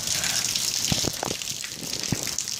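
Rainwater gushing into a street drain during a heavy thunderstorm in Austin, Texas: a steady, close rushing hiss with a few low splashy thumps, and no talking.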